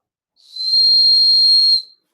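A steady, high-pitched whistle from a ceramic whistling bottle swells in, holds for over a second, and then cuts off, with no voices.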